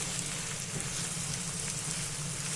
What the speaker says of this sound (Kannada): ಹೀರೆಕಾಯಿ ಹಾಕಿದ್ದೀನಿ ಒಂದು ಸ್ವಲ್ಪ ಫ್ರೈ ಮಾಡೋಣ